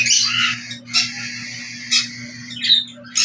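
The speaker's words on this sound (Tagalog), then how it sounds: "Ayos ang aking mga ibon." Several pet birds kept in cages give loud, harsh squawks in bursts with short gaps between them, close by, over a steady low hum.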